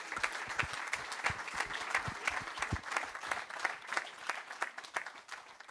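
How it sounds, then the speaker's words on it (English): Lively, dense audience applause in a room at a 2023 motorsport team's equestrian launch press conference, a crowd of hands clapping steadily and fairly close before thinning toward the end. "let's have another round of applause for our riders and drivers"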